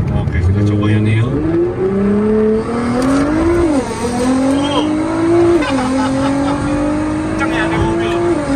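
A modified Nissan GT-R Nismo with carbon parts accelerates hard on a test drive, its engine climbing steadily in pitch through the gears, loud and close from inside the car, with hints of tire noise.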